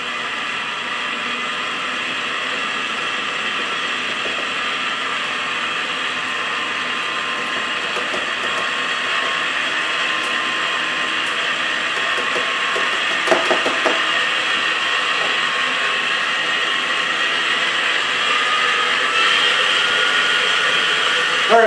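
Electric hand mixer running steadily on low speed, blending dry ingredients into wet batter for a low-carb poke cake; a continuous motor whir holds at an even level throughout with no talking.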